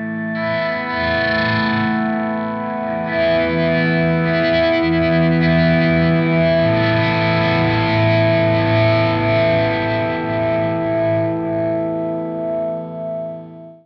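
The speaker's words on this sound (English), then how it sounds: "Sounds really cool with distortion in my opinion." A double-neck Gibson electric guitar played loud through heavy distortion, with ringing sustained chords and notes that blend into one continuous wall of overdriven tone with a chorus-like shimmer, and no talking.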